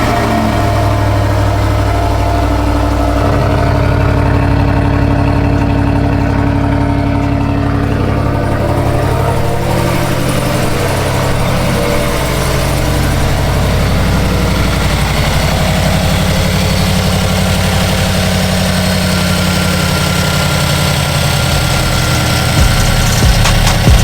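A supercharged Chevrolet Silverado pickup engine fires up and settles into a loud, steady, close idle with a deep low rumble and a constant drone throughout, no voices over it.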